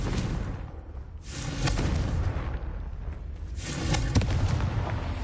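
Confringo fire-blast spell explosions in Hogwarts Legacy come as loud booming bursts, two broad blasts with crackling rumble between them, close and full.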